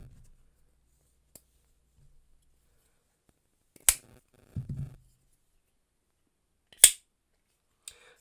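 A small automatic knife flicks open in two sharp, isolated snaps several seconds apart, each a crisp close click with a firm thump, with a brief soft rustle of handling between them in an otherwise quiet room.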